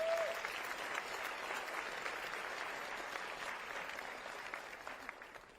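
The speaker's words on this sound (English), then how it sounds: "Let's give them a round of applause." An audience at a county address gives a sustained round of applause, steady and broad, fairly faint and slightly distant, slowly thinning toward the end.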